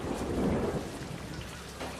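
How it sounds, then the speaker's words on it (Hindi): Heavy rain and thunder outdoors, a dense, steady roar of downpour with a deep rumble of thunder rolling through it, loud and continuous, with no voices. "बाहर बहुत अच्छी बारिश है"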